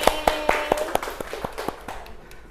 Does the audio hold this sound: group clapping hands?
yes